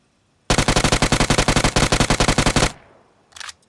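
A UMP45 fires on full auto in the video game PUBG: one loud, close burst of about twenty rapid, evenly spaced shots lasting two seconds, then a short ringing tail and a brief mechanical clatter.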